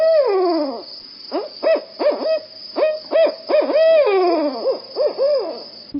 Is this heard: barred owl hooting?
yes